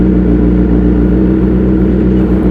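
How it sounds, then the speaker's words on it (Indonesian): A 2012 Honda CBR1000RR 20th Anniversary motorcycle fitted with an M4 full-system exhaust and a Yoshimura header idles loudly and close while warming up, giving a steady, deep, throbbing engine rumble. "Kita panasin dulu. Ini knalpotnya pakai M4 full system, leadernya pakai Yoshimura."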